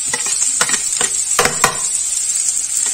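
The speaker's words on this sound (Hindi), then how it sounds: "बस फ्रेंड्स हम इसमें ऐड कर देंगे अपनी प्याज और ग्रीन चिल्ली।" Onion and green chilli sauté in hot oil over high flame for chicken fried rice, a loud steady sizzle close up with a few scraping stirs of a spatula against the pan.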